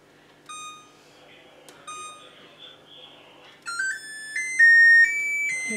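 An oven timer beeps repeatedly while being set, first a few short isolated beeps, then a denser run of rising electronic tones toward the end, with quiet kitchen background underneath.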